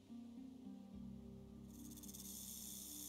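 Snake hissing in the survival game Stranded Deep, a steady breathy hiss that swells loud about halfway through and holds over a low droning game background, with no talking.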